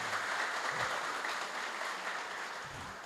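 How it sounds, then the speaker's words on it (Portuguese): Seminar attendees give a round of applause, a dense, even wash of clapping sustained throughout, with faint voices underneath. "palmas para todos"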